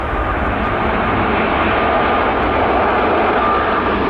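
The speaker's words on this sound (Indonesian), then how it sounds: "Kalau yang ini pesawat kargo China Airlines." A China Airlines cargo plane in a video game roars with a steady, dense engine drone, loud and unbroken throughout with no voices.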